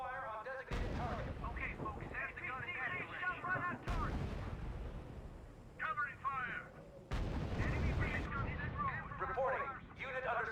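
Gunfire and artillery fire in the R.U.S.E video game's D-Day Utah Beach mission: sharp bursts and heavy booms repeat in waves, with radio-style unit reports spoken over the fighting.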